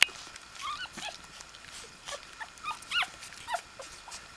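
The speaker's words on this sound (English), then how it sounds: "Their little whimpering sounds." Week-old puppies whimper and squeal in thin, high cries while searching for breakfast, several short yelps scattered close by over a soft background hiss.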